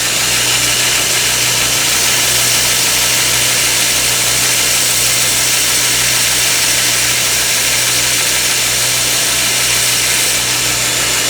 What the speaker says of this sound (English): we're going to grind the head off of this thing